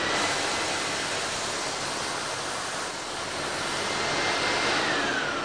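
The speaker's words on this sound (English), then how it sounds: "So if I turn on the vac now," Continuous loud, steady hissing roar of a Pure i6 industrial steam vacuum cleaner running close by, with no pauses or voices.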